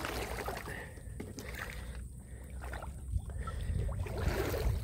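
Oars or a paddle splash and knock against a small wooden boat in uneven strokes, with water sloshing and gurgling close by.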